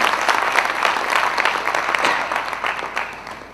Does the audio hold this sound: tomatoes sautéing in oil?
no